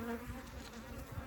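Honeybees buzz steadily at an open hive holding eight frames of brood, a dense, close, continuous hum with no talk over it.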